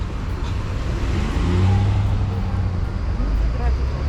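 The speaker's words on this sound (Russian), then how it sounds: "Блин, тут трафик с утра." Morning road traffic in Puerto Aventuras, Mexico: a steady, loud rumble of passing cars with an engine swelling as it goes by, heard close up from the roadside.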